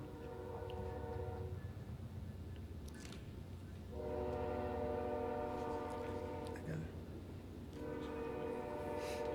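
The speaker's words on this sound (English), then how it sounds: "is the train killing my vibe?" A train passes outside a city council meeting, sounding long sustained horn blasts in two main bursts over a steady low rumble of rail cars, heard from a distance indoors.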